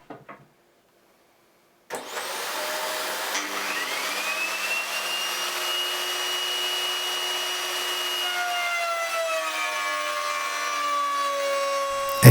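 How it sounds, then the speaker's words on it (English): A woodworking router on a router table cuts a dovetail in wood with no dust extraction hose attached. It spins up from a short quiet start into a loud, steady, high whine that holds for about ten seconds, with no talk. "there's nothing wrong with this cut, except I forgot to connect the vacuum hose to the router"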